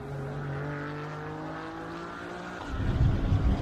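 A race car pulls into the pit lane during an endurance race at Road America. A steady engine drone with clear harmonic tones holds, then gives way to a louder, rougher low rumble near the end.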